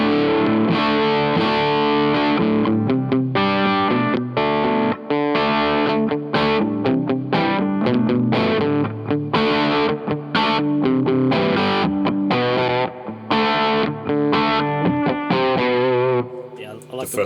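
Electric guitar played through a Bogner Ecstasy Red amp with heavy distortion, a loud, continuous run of chugging chords and riffs with brief pauses, close and upfront.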